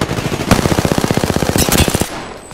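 Rapid automatic gunfire from the video game Apex Legends rattles out as one loud, close burst of evenly spaced shots lasting about two seconds, with a single sharp shot just before it.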